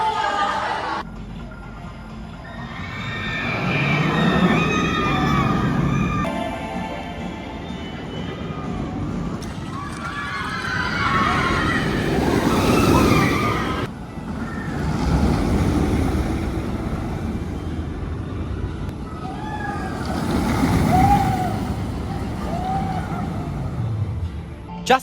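Ride on the Dueling Dragons roller coaster at Guangzhou Sunac Land, taken from the back row: steady roaring wind rush and track rumble that surges in waves, with people's voices and screams breaking through.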